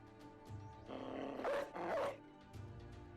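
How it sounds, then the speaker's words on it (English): Summoned dog attacking in the video game Battle Brothers, with two loud growling, snarling bursts in quick succession over a low game soundscape. "It might be better just summon the damn dog."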